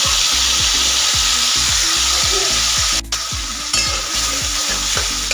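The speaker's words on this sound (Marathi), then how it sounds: "जे आपण मसाला बनवला होता ना ग्रेव्ही, ती आपल्याला इथं तेलामध्ये टाकून घ्यायची।" Masala gravy for broccoli bhaji sizzles and fries steadily in hot oil in a pan, with repeated scraping stir strokes in a loose rhythm, close and loud, no talk.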